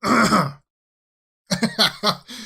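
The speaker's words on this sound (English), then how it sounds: "Always clear your throat out" A short, rough throat clearing up close, then a second of silence followed by a few more harsh, choppy throat-clearing bursts.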